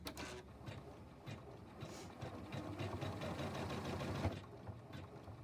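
A home embroidery machine stitches snowman sketch lines for a Kimberbell design, giving a faint, steady mechanical chatter of needle strokes over a low running hum, heard close up with no talking.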